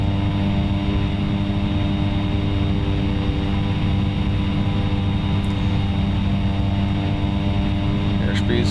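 Propeller aircraft engine in the X-Plane 11 simulator held at full throttle with full mixture on the takeoff roll, a loud steady drone with layered harmonic hum throughout, faint higher chirps near the end.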